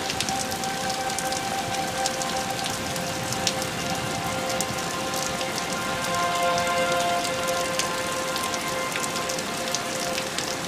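Steady rain with hail pelting down during a severe storm in Knox City, Texas, a dense, continuous patter with scattered sharper impacts. A faint siren tone drones steadily underneath.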